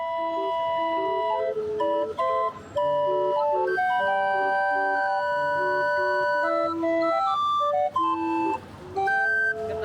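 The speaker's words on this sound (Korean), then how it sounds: "시내를 걷다 보니 멀리서 오래된 풍금 소리가 난다." An old street barrel organ plays in a Mexican town: a reedy, slightly wavering melody of sustained notes with a busy street murmur beneath it, heard fairly faintly as if from some distance.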